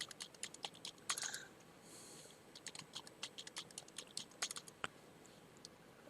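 Computer keyboard typing, quick irregular clicks and short bursts of keystrokes at close range, fairly quiet, with no talking, during network design work setting up user accounts.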